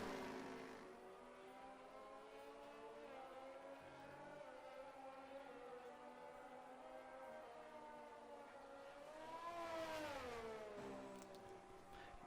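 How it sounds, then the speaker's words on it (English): A McLaren race car in a racing video game set at the British circuit hums with a steady, layered engine whine. The pitch swells and bends as the car draws close and goes past. "Letting the McLaren by."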